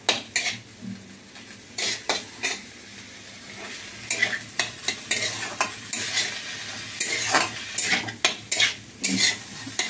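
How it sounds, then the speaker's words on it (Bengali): Watermelon rind with salt sautéed in a pan, with repeated scraping stirs and clanks of a utensil against the pan over a light sizzle, close and rhythmic. "এটাও একটু বেশ কষবে"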